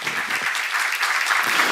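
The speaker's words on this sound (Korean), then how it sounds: "박수 한번 주세요." A church congregation claps steadily and loudly throughout, a dense wash of applause with no pauses.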